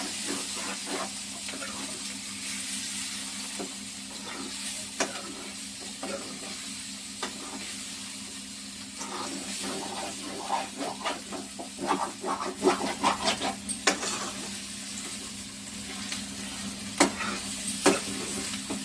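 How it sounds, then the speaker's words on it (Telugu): Chicken kandanakaya fry being stirred in a pan: repeated scraping and stirring over a soft sizzle, growing busier and louder midway, with no speech. "ఇలా కలుపుతూనే ఉండాలి అడుగంటిద్ది అడుగంట కాకుండా కలపాలి"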